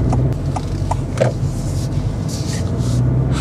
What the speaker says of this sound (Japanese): あ、エンジンかかってますね。